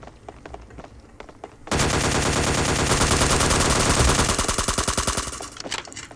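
A DP gun in the video game Scarfall 2.0 fires a long sustained automatic burst, loud and close, after a short quieter stretch, then the rattle thins and stops near the end.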